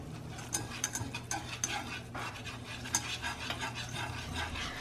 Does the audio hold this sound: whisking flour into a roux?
yes